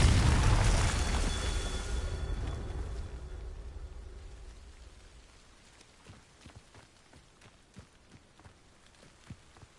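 A Confringo fire spell blast from the Hogwarts Legacy video game: a loud fiery explosion bursts at the start and rumbles out over a few seconds, followed by scattered faint crackles and pops.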